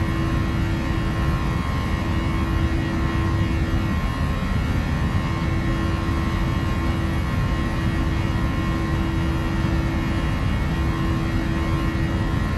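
Airliner in Flight Simulator X at Mexico City: a loud, steady jet engine roar with a constant whine and low rumble throughout, unchanging and close, without voices.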